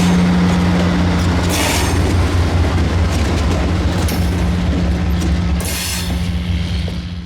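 Western Maryland Scenic Railroad steam train labors up the steep grade at Helmstedter's toward Brush Tunnel, a loud, steady low drone of the locomotive with rumbling wheels and bursts of hiss, no voices.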